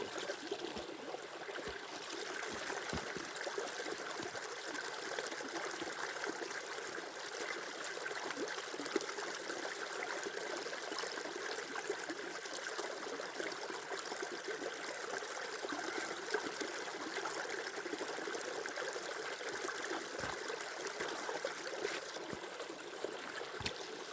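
Water steadily pours and trickles through a HydroBlu Sidekick filter into a cup, a continuous close splashing stream that runs unbroken throughout.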